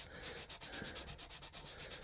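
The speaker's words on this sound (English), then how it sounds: "and sanding, so that way when the primer goes on, it'll be nice and smooth" Fine 600-grit sandpaper rubs over a 1/350 scale refit Enterprise model kit before priming, giving quick, rhythmic back-and-forth scratchy strokes, close and fairly loud, with no voices.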